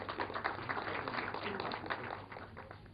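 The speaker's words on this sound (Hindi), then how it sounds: "हम उनका तालियों के साथ स्वागत करते हैं।" An audience applauds to welcome a distinguished poet and director at a cultural event featuring classical singing. The clapping is dense and steady, moderately loud and fairly close, running throughout with no talk over it.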